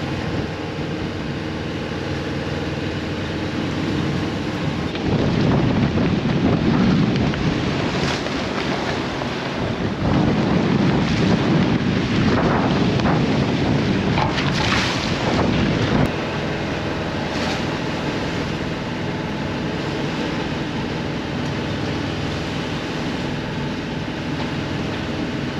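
Strong wind roars across a sailboat in big seas, steady gusty buffeting with surges of breaking water and hull wash that swell loudly in the middle stretch, no voices.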